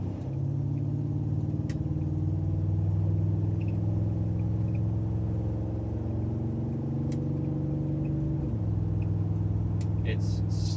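A car with a 1960s transmission fitted with electronic control pulls away from a near stop at a merge, heard from inside as a steady engine drone rising in pitch, with a shift partway through.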